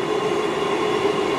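A train rumbles steadily into a platform at Yatton station, with a continuous mechanical hum and faint rail noise, close and fairly loud, no voices.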